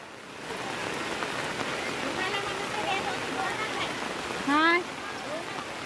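Steady heavy rain pours down on an outdoor weekly market in Sawarde, near Chiplun, as a continuous dense hiss, with a brief louder sweep of sound near the end.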